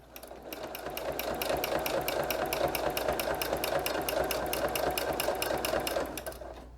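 A sewing machine quilting a heart stencil pattern runs in a fast, even stitching rhythm close up for about six seconds, then stops.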